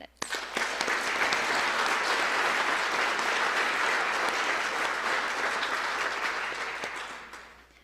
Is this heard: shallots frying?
no